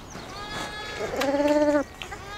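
A single sheep bleats on the grassy South Downs hills, a wavering, mid-loud call lasting under a second, heard fairly close against soft outdoor background noise.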